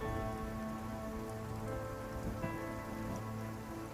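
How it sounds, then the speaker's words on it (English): Steady rain falls across dark woods in a fantasy role-playing game, a dense, continuous patter with scattered droplet ticks, close and even throughout with no voices. "he kind of points just to the darkness of the woods, now covered in rain"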